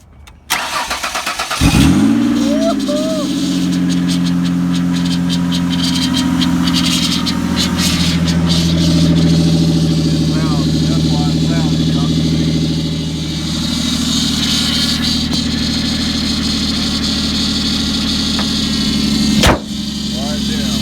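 A cheap auction-bought Ford Escape with a disconnected pipe underneath cranks briefly and catches, then settles into a steady, close idle that runs throughout, with people talking faintly over it.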